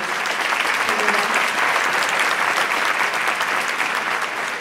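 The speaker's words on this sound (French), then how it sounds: "On va applaudir." An audience in a hall at a question-and-answer session with Mamoru Hosoda breaks into sustained, even applause that holds steady throughout without letting up.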